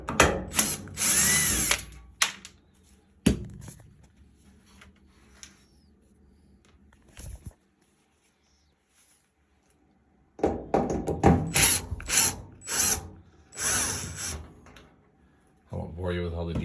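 Power drill backing screws out of a Whirlpool washing machine during a repair, several short whirring bursts near the start and a dense run of bursts toward the end, with quiet handling and a pause between.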